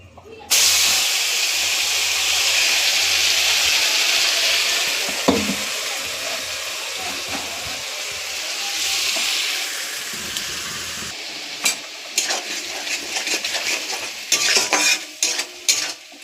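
A ginger, garlic, tomato and onion spice paste with green chilli hits a hot pan and sizzles loudly, a strong steady hiss that fades somewhat, then spoon scrapes and clinks of stirring near the end.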